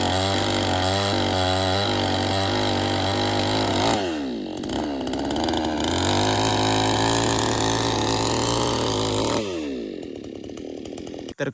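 Chainsaw cutting dried, dead mango tree wood in the Konkan countryside, the engine droning loud and close at high revs, dipping briefly mid-cut and dropping off near the end.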